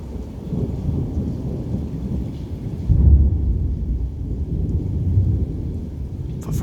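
Deep, rolling thunder rumbles through a steady wash of rain in an early-morning thunderstorm, the first of the season, swelling to a heavier boom midway before easing back into the downpour.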